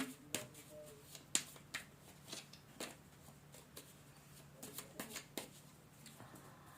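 Second deck of playing cards being shuffled by hand, a quiet close sequence of crisp riffles and slaps in an irregular rhythm, alone without talk.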